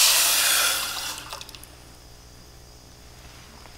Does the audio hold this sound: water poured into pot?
yes